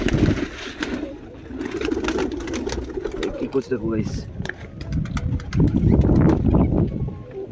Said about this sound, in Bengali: আর এদিকে পায়রাগুলো সব খাচ্ছে